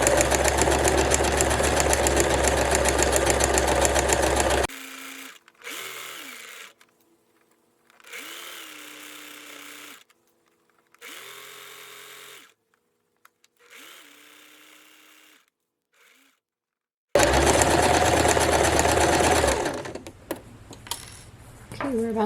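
Sewing machine stitching horsehair braid onto the hem of a formal dress, running in a steady loud whir at first, then stopping and starting in short bursts before a final long continuous run.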